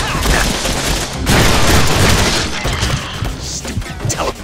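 Dense bursts of gunfire and crashing explosions fill a Deadpool action video game in a loud, continuous barrage with no gaps.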